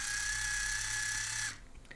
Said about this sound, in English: N3 makes the left motor go backward.